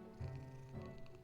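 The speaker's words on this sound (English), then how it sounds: "That cat's name is Mrs. Carter" A pet cat named Mrs. Carter purring in the SCP: Secret Files video game, a short, quiet, low rumbling purr with a faint rise midway.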